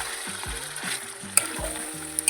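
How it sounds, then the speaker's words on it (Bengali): Chicken pieces frying in a spiced masala sizzle steadily, with a few low thuds and clinks as they are stirred in the pan, close and fairly loud. "এই যে চিকেনটা আর কি দিয়ে দিয়েছি"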